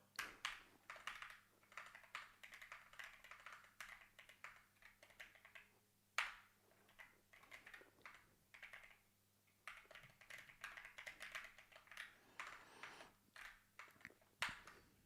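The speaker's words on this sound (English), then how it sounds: "I'm gonna keep typing while my microphone is right here" Keystrokes clatter steadily on a Keychron K1 Max mechanical keyboard, bursts of quick close-up typing with brief pauses, fairly quiet against a faint background hum.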